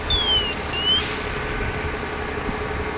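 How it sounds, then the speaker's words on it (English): Self-contained breathing apparatus at a live fire training burn: a high whistling tone sweeps twice, followed by a sharp hiss of released air that fades into a steady low rumble. "That noise you hear is those self-contained breathing apparatus."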